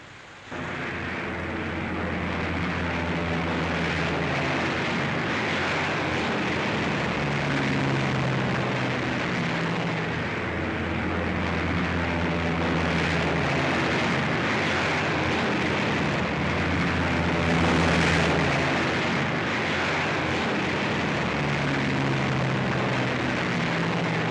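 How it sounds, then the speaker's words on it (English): Aircraft engines drone in a 1943 British wartime film, a dense, steady roar of several propeller planes overhead with a slowly wavering beat, swelling slightly near the end and holding alone without talk. "Flugzeuge."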